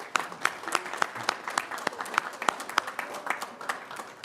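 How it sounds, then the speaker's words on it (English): Applause at a city council meeting, with brisk, dense clapping from a modest crowd holding an even pace throughout, fairly close and with no talking over it. "I think they deserve some applause for that."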